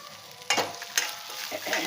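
Curry leaves and cumin seeds roasting in a pan, with short bursts of stirring and scraping over a soft, steady frying sizzle, close up and with no talk.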